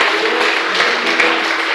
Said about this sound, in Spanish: Si están listos, dale palmas al Rey, por favor. Apláudele fuerte.